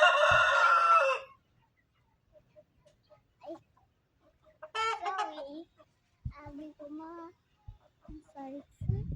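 A rooster crows loudly once up close, followed by quieter clucks and a few scattered voices and short sounds.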